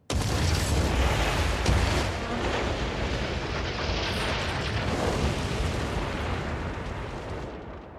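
Fireworks going off in SimCity 2013 (post 2.0 patch), a dense, continuous roar of booms and crackling bursts that stays loud for the whole stretch with no talking.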